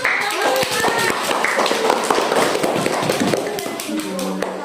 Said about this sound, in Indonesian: Ya, semuanya tepuk tangan.